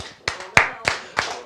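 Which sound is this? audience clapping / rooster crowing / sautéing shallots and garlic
audience clapping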